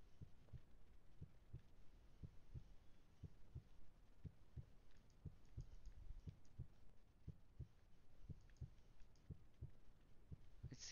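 Heartbeat in the VHS horror video game Tape: a slow, regular series of soft, deep thumps over a faint hum, evenly spaced and repeating for the whole stretch, with no talking.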